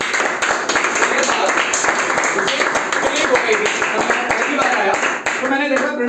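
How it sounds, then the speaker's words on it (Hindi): An audience at a motivational talk claps steadily and fairly loudly for several seconds, a dense continuous patter of many hands that tapers off near the end. "तालियां।"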